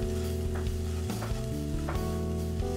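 Chicken stir fry sizzling steadily in a hot pan, continuous crackling fry with a few clinks and stirring knocks, close and even throughout with no talking.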